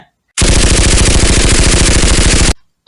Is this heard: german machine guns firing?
yes